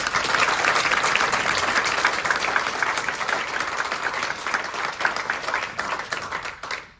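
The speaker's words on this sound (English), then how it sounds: "I would like to ask for an applause for both Abris, James, and Maheshwari" An audience claps steadily for stroke research award winners at an award ceremony, a dense, even burst of many hands that holds for several seconds before trailing off.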